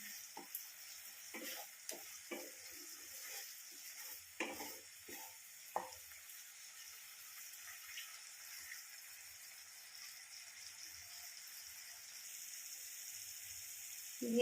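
Vegetables and spices, including ground coriander, sizzle and fry in a pan for Bengali niramish shukto, with a soft, steady hiss punctuated by several clattering stirs early on, then quieter continuous frying alone.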